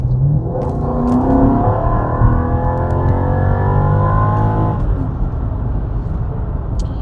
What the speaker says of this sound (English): Let's go ahead and give it full throttle and see if we go back into limp mode.